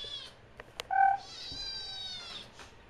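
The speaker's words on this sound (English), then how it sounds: "Yep, very, very noisy kitties." Two pet cats meow loudly and noisily in a home, giving several sharp, drawn-out cries close to the microphone, one after another with brief pauses between them.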